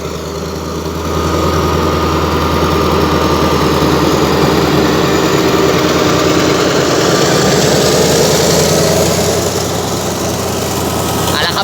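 An MTU diesel engine on a Thai railway locomotive runs at a suburban train stop, a loud, steady drone with low rumble that holds evenly throughout, no speech over it.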